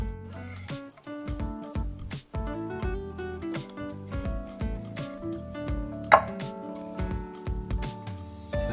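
A knife cuts repeatedly through a cooked Korean beef L-bone steak on a cutting board in quick, uneven strokes, close and fairly crisp, with faint clinks in between and no talking.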